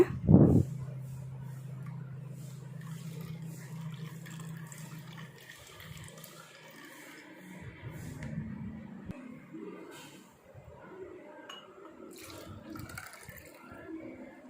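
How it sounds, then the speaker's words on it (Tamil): About 30 ml of water is poured into a drink mixture at home, a short liquid pour followed by quieter splashing and handling sounds, with no talking. "ஒரு முப்பது எம்எல் மட்டும் நீங்கள் தண்ணீர் சேர்த்துக்கோங்க"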